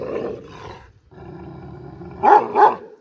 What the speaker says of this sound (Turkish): Bakın köpeğime.